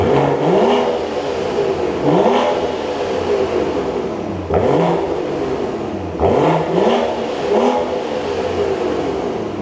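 BMW 540i exhaust in its loudest valve-open mode, revved hard close by in four sharp blips that rise and drop back to idle, with no talk.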